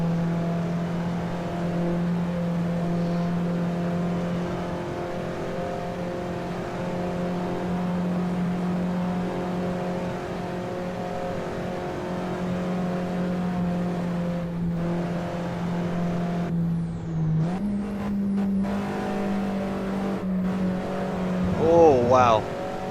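An Alfa Romeo 4C races in a video game while closing on a BMW E92, its engine holding a long steady drone that then jumps in pitch after a shift, with tyre squeal near the end and someone talking over it.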